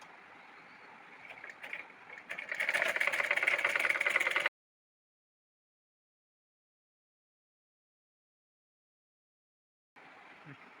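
A sewing machine runs steadily as it stitches a quarter-inch folded fabric edge on an abaya gown, whirring for about four seconds, then stopping dead before starting up again briefly near the end.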